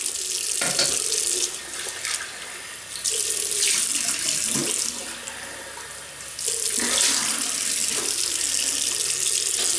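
A tap runs steadily into a sink for rinsing off after a shave, a close, broad rushing of water that surges and eases as hands move through the stream, with no voices.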